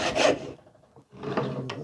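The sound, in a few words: handsaw cutting wood board in a vise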